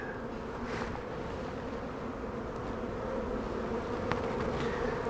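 Honey bee swarm after a storm, a dense steady buzzing hum from many bees, close and continuous, with a few louder bees passing nearby.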